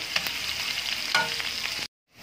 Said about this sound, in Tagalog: Ilalaglag natin itong sibuyas at bawang.